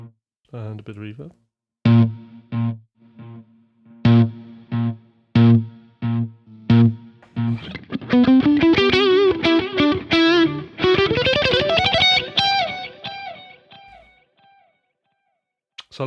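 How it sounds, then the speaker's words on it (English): Electric guitar with reverb added, beginning with a series of separate plucked chords with gaps between them, then a sustained, ringing passage of swelling notes that fades out into a decaying tail. "And a bit of reverb."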